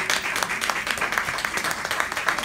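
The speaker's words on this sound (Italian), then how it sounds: "Io farei a loro un applauso" Dense, close applause from an audience welcoming young people seated on the steps, many hands clapping in a continuous patter.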